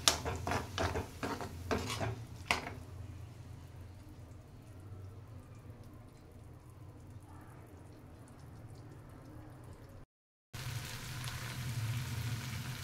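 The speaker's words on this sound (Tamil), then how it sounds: "இந்த டைமில் வந்து நம்ம உருளைக்கிழங்கும் பட்டாணியும் வேக வச்சது அதை வந்து இதில் போட்டுடணும். கொட்டி எல்லாத்தையும் நல்லா ஒன்றா கிண்டி விடணும்." A spoon scrapes and clinks in a pan as boiled potatoes and peas are stirred into fried garlic, with a few sharp knocks at the start, then a steady low sizzle that continues throughout with no speech.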